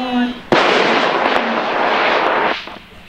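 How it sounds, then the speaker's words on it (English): A Mini DBX model rocket motor ignites with an abrupt crack and roars loudly for about two seconds before cutting off, just after a voice finishes counting down. "And we're ready to go with Bryan's rocket in 5, 4, 3, 2, 1."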